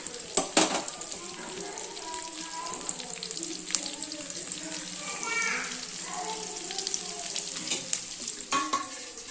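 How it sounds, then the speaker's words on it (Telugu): Onions frying in a pan for a bean curry are stirred repeatedly. A soft, steady sizzle runs under sharp, intermittent scrapes and clacks of the spoon against the pan. "ఆనియన్స్ని బాగా కలుపుకోవాలి"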